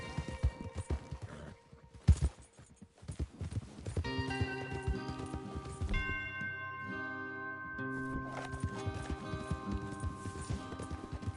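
Rhythmic clip-clop of horse hooves in Red Dead Redemption 2 amid a busy game soundscape with music-like tones, loud and continuous with a sharp crash early on.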